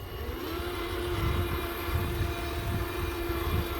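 An SCX6 RC crawler's dual brushless motors run at top speed, a steady, close electric whine over a rumbling drivetrain, with no talk.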